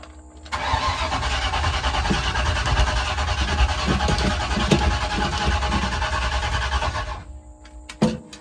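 Car engine cranking over repeatedly without catching during an ignition repair, a loud steady starter churn lasting about six and a half seconds, then stopping, followed by a few clunks.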